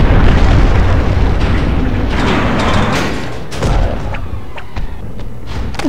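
In a Hulk video game, gunfire and explosions roar loudly throughout, a dense wall of booms and crackling bursts with sharper pops and thuds standing out near the end.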